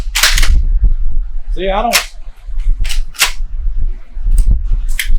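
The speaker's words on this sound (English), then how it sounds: "One more round there, and then I'm gonna quit. I'll shoot that block" Spandau S2 shotgun fired at a target block outdoors, several sharp loud gunshot cracks spaced apart, with someone talking briefly between shots and a short metallic whine.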